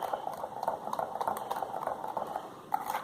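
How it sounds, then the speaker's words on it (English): A homemade hyaluronic acid skin-lightening lotion is stirred in a container, producing a close, wet, churning swish with quick irregular clicks and splashes over about three seconds. "Stir it in."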